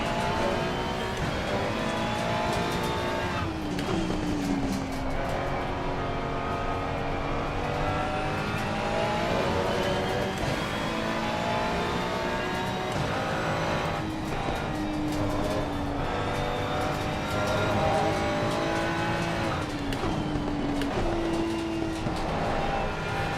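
Ferrari race car engine in the Assetto Corsa Competizione sim racing game during a sprint race at Watkins Glen, a continuous loud whine rising and falling steadily through gear shifts with no talking.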